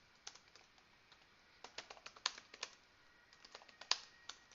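Quiet, irregular taps of typing on a computer keyboard, with short bursts of keystrokes and a few louder key presses.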